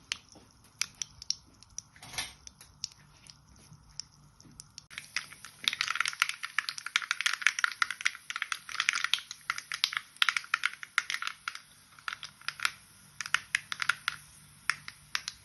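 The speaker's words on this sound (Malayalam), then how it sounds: "കടുക് നന്നായി പൊട്ടി." Mustard seeds pop in hot oil for a Kerala pumpkin and bean erissery. Sparse faint crackles build into a dense, rapid spatter of sharp little pops that continues to the end.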